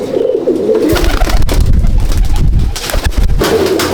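Andhra and Madrasi pigeons in a loft give deep, throaty coos, several birds overlapping at close range with rolling low murmurs and a few fluttery rustles, loud and without talk.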